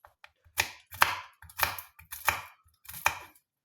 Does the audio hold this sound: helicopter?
no